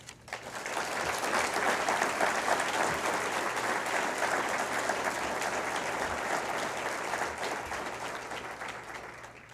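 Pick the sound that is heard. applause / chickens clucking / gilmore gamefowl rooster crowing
applause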